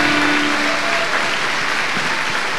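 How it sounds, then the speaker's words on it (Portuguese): Dense, continuous applause from a Catholic congregation at a worship service, steady and full throughout, with a faint held tone under it early on. "Vamos aplaudir o Espírito Santo"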